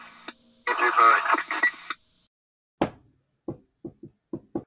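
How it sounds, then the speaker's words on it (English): Knocking on a door, first buried under a burst of radio-like chatter, then a sharp rap followed by five light, evenly spaced taps that come alone and sound fairly close. "he's either knocking crazily or not barely knocking"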